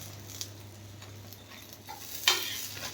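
An aloo paratha fries in ghee on a pan, giving a soft continuous sizzle beneath a low steady hum, with a few light taps and a louder scrape near the end.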